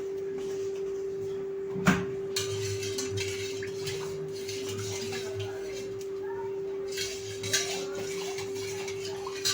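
A spoon stirs lemon sherbet with black salt in a glass, giving a sharp clink followed by soft, continuous swirling and light tapping, close by over a steady electrical hum in a quiet kitchen.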